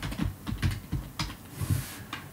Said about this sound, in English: Now if I type in transform,